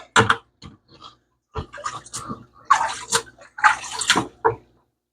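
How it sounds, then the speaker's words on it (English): Water splashing and spilling from a bucket while catching small shrimp for a new tank, in several short wet bursts with brief pauses, close by and moderately loud. "I spilled some water"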